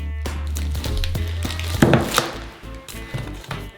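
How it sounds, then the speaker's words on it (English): A machete chops through a block of palm oil, giving a few dull wooden thunks and a sharper whack near the middle, close and fairly loud over a low steady hum. "Using a machete, we cut this briquette in half"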